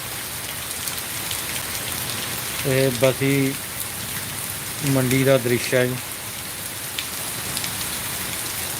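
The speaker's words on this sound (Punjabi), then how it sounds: "ਵਿੱਚ ਬਾਰਿਸ਼ ਬਹੁਤ ਹੋ ਰਹੀ ਹੈ ਕਈ ਦਿਨਾਂ ਤੋਂ" Heavy rain falls over the waterlogged Bassi Pathana market in a constant close roar, while someone speaks briefly twice over the downpour.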